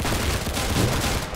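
In the video game Arsenal, rapid gunfire crackles in a dense, continuous burst for a short moment, loud and close with no pauses.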